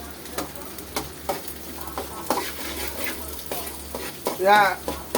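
Pumpkin pieces frying in a pan while being stirred with a spatula: steady sizzling with repeated scraping and tapping strokes, close and fairly loud, plus brief background voices.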